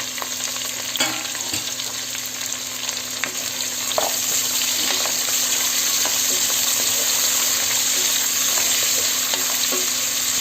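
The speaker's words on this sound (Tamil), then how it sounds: "இப்போ இங்கே வெங்காயம் வதங்கிட்டு இருக்கட்டும்" Steady sizzling of onions frying in a pan for chicken biryani, a dense crackling hiss with occasional stirring clicks, close and continuous without any talk.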